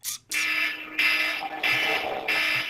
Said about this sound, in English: There's some fucking war alarm going on.